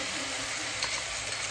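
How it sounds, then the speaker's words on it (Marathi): Onion, chili and garlic sizzle steadily in a pre-seasoned cast iron kadhai, a dense, even frying hiss with occasional stirring and no talk. "आपल्या कढईमध्ये मस्त कांदा घेतलाय, सोबत मिरची आणि लसूण, आणि मग जे आपण कुकरमध्ये शिजवलंय ते टाकणार."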